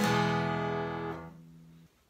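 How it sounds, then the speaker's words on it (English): A single strummed chord on a Martin Dreadnought Junior acoustic guitar rings out and decays for about two seconds, clear and close with no other sound. "Martin Dreadnaught Junior."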